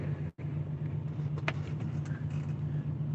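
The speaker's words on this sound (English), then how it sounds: "Wait till this truck goes by." A truck passes on a street, a broad steady engine rumble with a droning hum held throughout, close and continuous with no talk over it.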